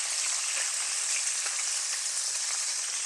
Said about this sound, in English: I fry my bacon in a pan instead of the oven